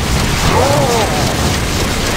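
Rocket explosions in the Wii racing game Skylanders SuperChargers Racing: a dense, loud rumbling boom sustained across the whole moment with a brief whistling sweep in the middle, no clear gaps.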